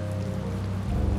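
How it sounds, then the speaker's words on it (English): Rain falling in the video game Tales of Vesperia, a short, steady, fairly loud patter with a low hum underneath and no voices. "It's raining, after all!"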